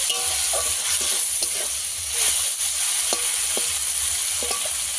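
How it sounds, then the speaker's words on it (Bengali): Raw tomatoes frying in a pan for a village-style bele fish curry: a constant loud sizzle with light stirring scrapes and taps scattered throughout, no voices. "ভেজে নিতে হবে কাঁচা টমেটো একটু সময় নিয়ে ভাজতে হবে"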